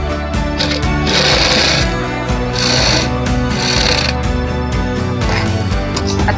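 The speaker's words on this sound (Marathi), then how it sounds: "आता आपण जो दुसरा पार्ट जो होता आपला तो आता आपण शिवायला घेत आहोत आणि त्याला चेन लावून घेतोय त्या पार्टला" A domestic sewing machine runs in steady bursts while stitching a pillow panel and attaching a zipper, its rapid mechanical whir starting and stopping several times at close range with no talking.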